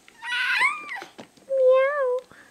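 A voice imitates a cat's meow twice in quick succession, close and clear, the first cry higher and rising, the second a drawn-out, lower mew.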